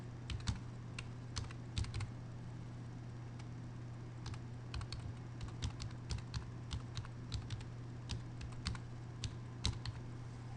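Quiet typing on a computer keyboard, irregular bursts of light key clicks over a low steady hum, close but faint with no talking.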